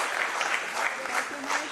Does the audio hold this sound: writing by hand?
no